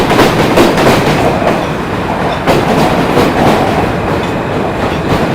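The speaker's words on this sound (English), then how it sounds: "That's the F train." A New York City subway F train rumbles past up close and loud, with rhythmic clickety-clack of wheels over rail joints filling the whole stretch, heard outdoors during a morning commute from Brooklyn to Manhattan.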